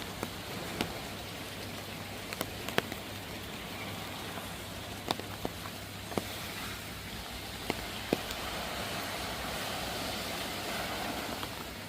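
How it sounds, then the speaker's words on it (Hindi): Heavy rain pours at a beach resort in Krabi, Thailand: a steady, dense hiss runs throughout, with scattered sharp drips and taps standing out now and then. No one speaks. "गाइस आज मौसम ख़राब हो गया है, बहुत ज़्यादा बारिश आ रही है और पानी यहाँ तक आ गया।"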